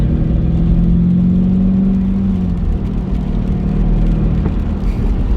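A Volkswagen Polo 6R GTI engine drones steadily while the car drives on a B-road, with a sustained mid-low hum and a rising tonal whine early on, continuous and fairly loud throughout.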